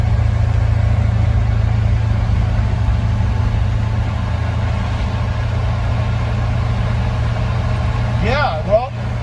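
A pickup truck with an NV3500 manual transmission sits out of gear, its engine droning at a steady low idle close by with a faint high squeak near the end.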